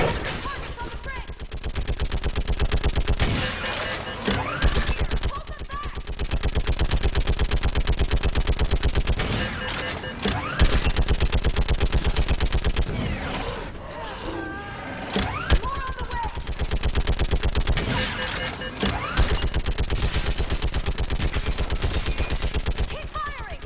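A mounted gun fires in the video game Mass Effect 3, loud sustained bursts of rapid automatic fire broken by short pauses, with heavy impacts and speech mixed in.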